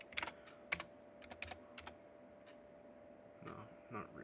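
Typing on a computer keyboard while rooting an LG G4 H811 phone: quiet scattered key clicks in short bursts and single taps, close and fairly soft, with no talk.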